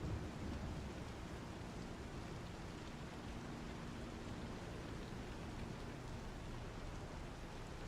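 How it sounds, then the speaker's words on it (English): Steady rain falling in the Star Citizen video game, a dense continuous hiss of drops with a low rumbling bed underneath, constant in level throughout with no talk. "I just wanted to see if it was raining indoors"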